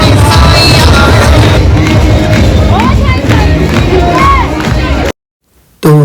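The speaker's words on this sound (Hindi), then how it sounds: "भाई आप भीड़ देख सकते हो, बहुत भीड़ है।" A large crowd of devotees fills a temple with loud, dense shouting and cheering voices and rising calls over a roaring babble. The sound cuts abruptly to near silence at the end.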